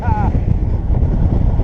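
A strong gust of wind buffets the microphone of a cyclist riding slowly in Taiwan, a continuous loud low rumble that fills the whole moment, with a brief tonal whine at the start.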